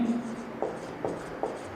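Pen writing amounts by hand on paper, with faint scratchy strokes and three soft taps at regular intervals, heard close under a quiet room background.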